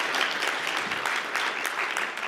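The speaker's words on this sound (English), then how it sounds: "How loud can you clap?" A conference audience at an open-mic learning event claps hard in a brief, dense burst, the many hands blending into a continuous loud roar across the room.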